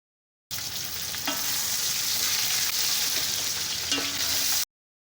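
Onions browning in a pan with ginger garlic paste added, cooked for mutton yakhni pulao; a steady close sizzle with a few light stirring clicks, no voices.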